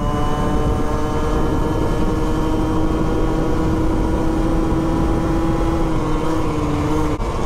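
A Stunt fitted with an 80 kit runs with a loud, steady engine drone, revving continuously close by with a strong buzzing tone throughout and no talk.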